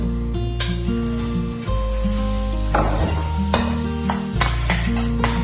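Butter goes into a pan of hot bacon fat over a medium flame and sizzles steadily and close. Stirring scrapes and clinks sound against the pan, with music playing underneath.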